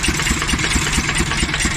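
A tractor-driven engine runs steadily at an engine exhibition, its valves working with a close, continuous mid-low rumble and a faint rhythmic pulse, with no talk over it.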